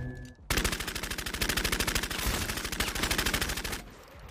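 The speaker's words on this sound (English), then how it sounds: "Tommy gun's not very good" A Tommy gun in the vampire battle royale game Bloodhunt fires one long, rapid, evenly spaced automatic burst of about three seconds, loud and close, with no talking over it.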